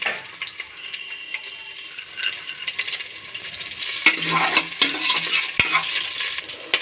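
Urad dal frying in a pan for a vegetable rasam curry, a steady close sizzle with scraping stirs and a few sharp utensil knocks near the end.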